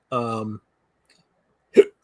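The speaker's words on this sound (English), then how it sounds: "I got the hiccups again." Two sharp hiccups from a person, first a short voiced gulp, then after a pause a brief abrupt catch, close and loud with silence between.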